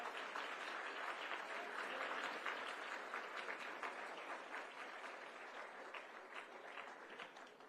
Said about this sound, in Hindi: और तालियां आप सबकी तरफ से।